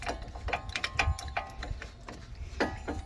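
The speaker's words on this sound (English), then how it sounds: "Get yourself a C-clamp." A C-clamp is screwed tight against an old brake pad during a 2017 Nissan Murano brake job, giving close, faint, rapid metallic clicking and ratcheting with small scrapes throughout and no talk.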